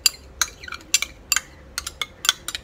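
A spoon stirs curd and coffee powder in a bowl, giving a run of sharp metallic clinks and scrapes in an irregular rhythm, close and fairly loud, with no one talking.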